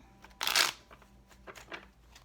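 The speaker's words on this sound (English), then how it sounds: "This will be our last shuffle." A deck of tarot cards is shuffled close by, a sharp burst of riffling followed by several softer card slides and taps, quiet and alone.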